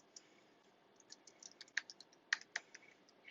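Keys clicking on a computer keyboard in a quiet room, a sparse run of light taps with a few sharper presses, close and faint, no voices.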